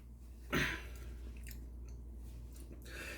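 Close-up chewing of crisp cucumber with Nongshim Bae Hong Dong jjoljjol noodles and boiled egg: one sharp, wet crunch, then softer mouth sounds over a low steady background hum.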